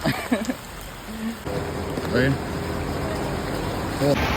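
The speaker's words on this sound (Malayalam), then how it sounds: "നല്ല മഴയുണ്ട് ഇപ്പോൾ" Heavy rain pours steadily in a broad, constant hiss that fills the whole clip, with a person talking over it now and then.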